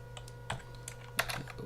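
A few quick keystrokes on a computer keyboard click out irregularly against a quiet, humming background, close and soft.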